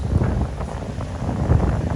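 Wind gusting outdoors on a windy evening near the Parliament House steps, a steady low rumble buffeting the microphone with a couple of stronger bursts.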